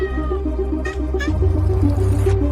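Repeated cat meows over a low, steady hum, several short calls in quick succession, fairly loud and close.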